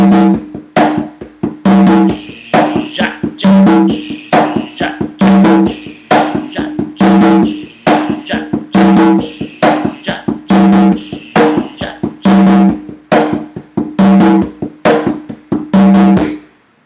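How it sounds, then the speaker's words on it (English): Latin American guiro played in a steady two-beat rhythm, its scraped strokes repeating evenly alongside regular tapped percussive hits, close and fairly loud, with no talking. "Guiro would sound like this."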